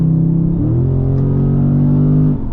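A Dodge Charger Hellcat accelerating hard in track mode, heard close and loud from inside as a deep engine roar that climbs in pitch, shifts once, keeps pulling, then backs off at the end.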